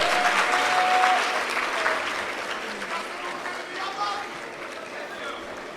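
A live audience at the GOVATHON 2025 grand final applauds Prime Minister Ousmane Sonko, a dense wash of clapping that swells at first and then gradually thins, with voices mixed in beneath it.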